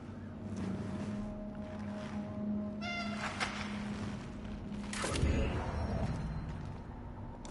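A cat meows in the video game Cronos: The New Dawn, a few short meows over a steady low mechanical hum, fairly quiet, with a sharper noise burst partway through.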